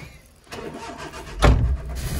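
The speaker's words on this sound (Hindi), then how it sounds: "और ये गरीब आदमी की अल्टो" Suzuki Alto car engine cranking and catching after a quiet moment, a short surge of low rumble that settles into a steady idle, close by with no talking.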